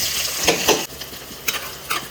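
Onion fries in oil in a pot for a chicken curry, a soft sizzle broken by a few short stirring scrapes, close and fairly quiet.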